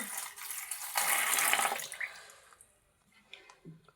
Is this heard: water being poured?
yes